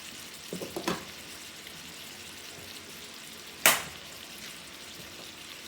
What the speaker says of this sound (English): So we got our steaks cooking up here.